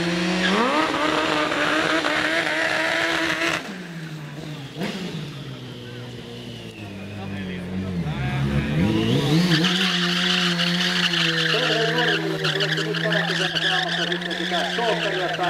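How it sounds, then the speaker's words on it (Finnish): A car spins donuts at a Bomber Show car event in Kajaani, including high-track donuts, with tires skidding and squealing continuously over a loud, droning engine that rises and falls. Voices can be heard in the background. "Pyöritellään Donitsia niin maahan perusteellisesti ja tehdään myöskin sitten high track Donitseja."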